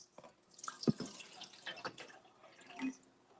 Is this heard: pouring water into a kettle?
yes